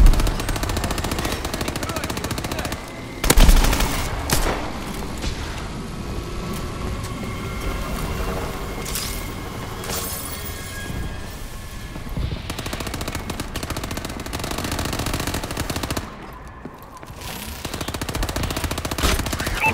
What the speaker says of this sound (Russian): Меня стреляют!